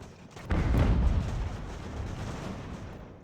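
A volley of musket fire from soldiers in the strategy game Ultimate General: American Revolution, a sudden heavy boom at half a second that rolls into a lingering, rumbling crackle before fading, distant and dense.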